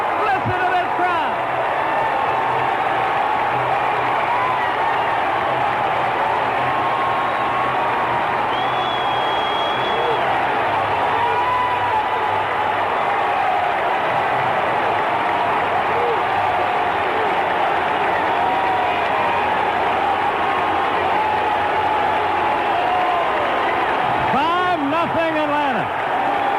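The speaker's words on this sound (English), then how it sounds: "A 3-run homer for Devereaux. It's 5-0 Atlanta. Listen to this crowd." Ballpark crowd roaring steadily after a three-run homer for Devereaux that puts Atlanta up 5-0 in Game 4 of the 1995 NLCS against the Cincinnati Reds, a dense sustained cheer with a broadcaster's voice talking over it.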